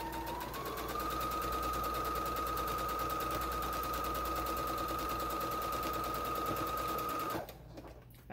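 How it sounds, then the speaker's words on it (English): A sewing machine runs steadily for about seven seconds, sewing fabric down inside a scarecrow bottle craft, a loud even whirring hum that stops abruptly near the end. "So I'm going to sew that all the way down."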